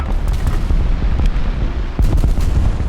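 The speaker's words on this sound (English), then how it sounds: "Okay, artillery strike." Artillery strike explosions in the War Thunder tank game rumble as a dense, low, continuous roll of booms, loud and heavy, with a sharper blast near the end.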